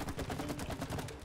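Rapid shots fired at green goo in the video game It Takes Two, a quick steady run of pulsing gunfire lasting just over a second and ending in a louder thump.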